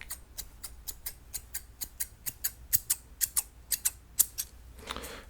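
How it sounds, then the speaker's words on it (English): Scissors snip steadily in a close, quiet haircut ASMR role-play, a rhythmic series of crisp, evenly spaced cuts followed by a soft rustle at the end. "just working those snipping motions from before"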